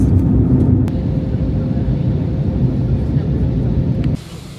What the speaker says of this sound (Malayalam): ഫ്ലൈറ്റിൻ്റെ സ്പീഡ് കൂടി ഇപ്പോൾ പൊന്തു.